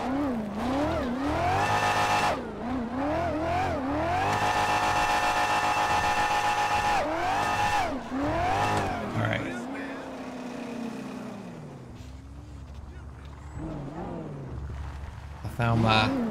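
A drag car in GTA5 spins its wheels, the engine holding a loud, steady high-revving drone with tire squeal, then dropping back to a rough idle and revving again near the end.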